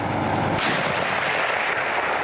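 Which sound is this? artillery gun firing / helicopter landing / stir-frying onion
artillery gun firing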